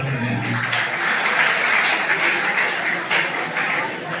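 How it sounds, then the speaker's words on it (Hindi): An audience at a school farewell ceremony gives sustained applause, a dense, even stream of clapping from many hands that stays loud for several seconds with slight swells. "मैं चाहूँगा उनका भी पूरा ताली से स्वागत करें।"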